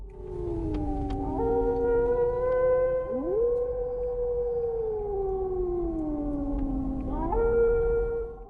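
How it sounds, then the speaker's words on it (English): Several wolves howl at night along a deserted road, long rising and falling wails overlapping and layered on one another, loud and continuous with no talking. "As they drive in the middle of the night, wolves are howling all around."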